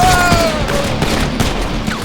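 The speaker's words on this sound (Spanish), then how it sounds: "Recibí varios disparos en el torso" Rapid volleys of gunfire in GTA 5 crack loudly and densely, a fusillade of close shots with booming impacts filling the whole short burst, no talking.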